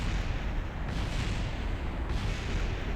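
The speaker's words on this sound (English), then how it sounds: "Ooh, explosions." Explosions rip through a spacecraft in the video game Kerbal Space Program, a loud, continuous rumbling roar of blasts with deep booming low end that fills the whole stretch.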